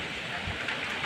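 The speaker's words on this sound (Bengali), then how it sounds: "দেখো এখন শান্ত হয়ে বৃষ্টিটা পড়ছে, অনেক শান্ত হয়ে হাওয়াটা দিচ্ছে" Soft, steady rain keeps falling after a long storm in Bengal, a faint, even patter close by with no voices.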